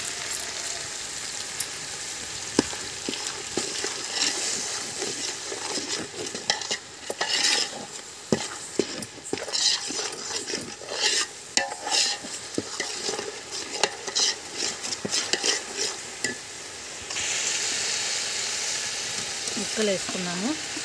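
A paste of tomato, coconut and cashew fries in a pot on a stove for a country chicken curry, with repeated loud stirring scrapes and clanks over a steady sizzle, and faint voices now and then.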